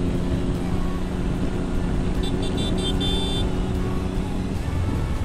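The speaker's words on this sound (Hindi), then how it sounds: "देख लो फुल सिस्टम स्कॉर्पियन एग्जॉस्ट लगा हुआ है इसमें, भाई बहुत तगड़ा लाउड है" A car fitted with a Scorpion full-system exhaust runs with a loud, steady engine drone that holds constant throughout, with no clear rises or drops in pitch and no voices.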